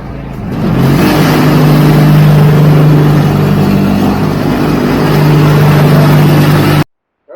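A John Deere X330 lawn tractor engine runs loud and close at a steady idle with a droning hum, starting up quickly and cutting off abruptly at the end.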